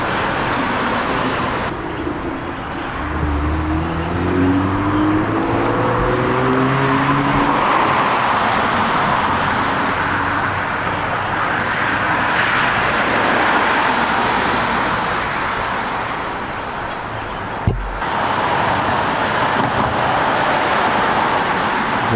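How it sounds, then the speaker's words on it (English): Vehicles stream along a busy road outside a house, a continuous loud roadway rush with passing cars swelling and fading, one brief sharp knock near the end, and no talking. "I got a busy road in front of my house and there seems to be a lot of traffic right now"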